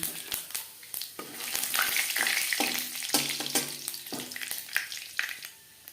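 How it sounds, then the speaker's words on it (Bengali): Panch phoron five-spice tempering sizzles and crackles in oil left over from frying fish, a steady close hiss dotted with sharp pops and spits, with no talking. "মাছ ভেজে নেওয়া তেলে ফোড়নে দিয়ে দিলাম 5 ফোড়ন।"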